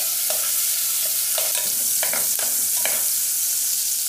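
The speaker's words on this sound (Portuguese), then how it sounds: "Então eu vou fritar o bacon aqui sem nada" Bacon fries alone in a pan with a loud, steady sizzle and crackle, while a utensil scrapes and stirs through it in a handful of short strokes.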